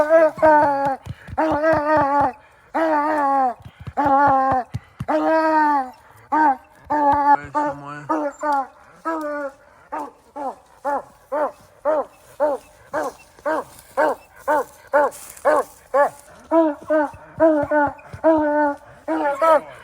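Hunting dogs on a night raccoon hunt bark and yelp in rapid repeated bursts, close and loud, with pitched whimpering cries between barks and a brief human voice partway through.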